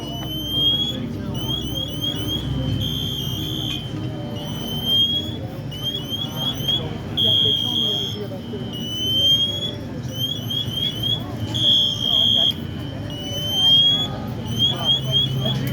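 A shrill, repeating electronic low-air alarm from a firefighter's SCBA air pack chirps in short rhythmic bursts at a basement fire, continuing steadily over a low background rumble and murmuring.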